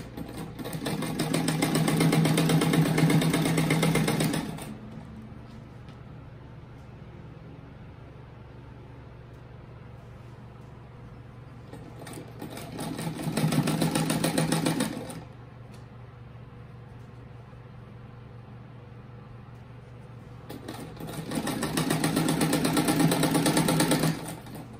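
A sewing machine stitches a ruffled fabric fish rug in three loud, steady bursts of rapid needle whirring, each a few seconds long, with quieter pauses between them.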